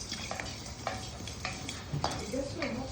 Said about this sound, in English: And stir. Stir it now. No oil. No oil. Dry roast.